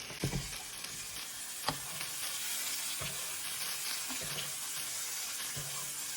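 A swordfish steak sizzles in a pan of brown butter with a touch of avocado oil over medium-low heat, with a steady frying hiss and scattered spoon taps and splashes as it is basted.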